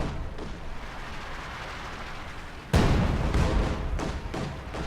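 An SU-76 self-propelled gun lays a blind artillery barrage in a strategy game, distant rumbling fire giving way to a loud nearby blast midway, then several more booming impacts in quick succession.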